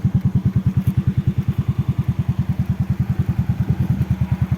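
A Yamaha Mio Sporty 5TL motorcycle engine idles steadily up close, a fast, even low-pitched putter with rhythmic pulses throughout and no talking.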